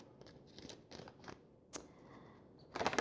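Small love oracle cards being shuffled by hand, close and soft, in short crisp bursts of riffling and sliding separated by brief pauses, ending in a quicker flurry.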